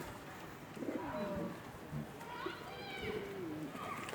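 Pigeons coo near at hand in a loft or yard, giving soft rising and falling calls with some wing and movement noise, while people talk over them.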